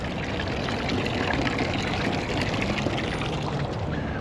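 Holy water runs steadily from a public fountain in Rome, a continuous close splashing pour with no break in the flow and no speech.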